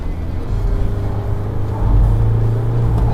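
A car engine held at full throttle while cruising, a loud close low roar that swells a little partway through and keeps going steadily.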